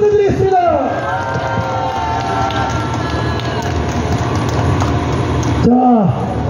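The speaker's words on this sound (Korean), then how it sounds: "여러분 큰 박수 부탁드리겠습니다." Crowd at a Busan street rally supporting President Yoon Suk-yeol breaks into sustained, dense clapping and cheering, with a voice heard briefly at the start and again near the end.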